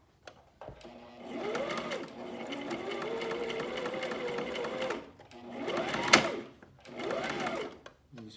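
A sewing machine stitches knit T-shirt fabric in several close bursts of rapid, even mechanical whirring separated by brief pauses, with a sharp click near the middle.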